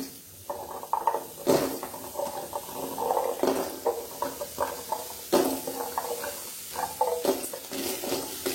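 Dried fish being washed by hand in water, with repeated splashing and sloshing bursts and handling clatter, close and moderately loud, no voices.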